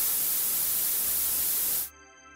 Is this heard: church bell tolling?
no